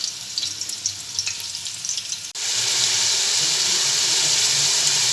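Onions fry in a pot with a crackling sizzle. Partway through, the sound jumps to a louder, denser hiss that holds steady and close until the end, with no speech.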